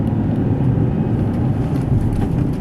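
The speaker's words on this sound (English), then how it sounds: "Put in first, give it gas while you're letting the clutch off." A manual car pulls away in first gear, heard from inside the cabin as a steady, loud, low engine rumble and road drone with no break.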